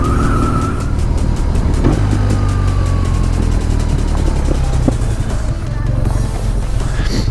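A motorcycle rides along a rural road in New Zealand's Far North, its engine droning loud and steady close by, with wind rush, gear changes and rising and falling revs throughout.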